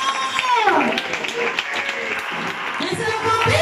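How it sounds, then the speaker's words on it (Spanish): Applause fills a church service, a steady wash of clapping from the congregation lasting several seconds, with a voice speaking and tonal music sounding over it. "Denle ese aplauso al Señor"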